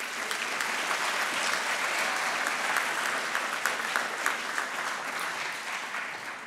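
A conference audience at a closing plenary session applauds steadily, welcoming speaker Christy Edwards with a dense, even wash of clapping that fades slightly at the end.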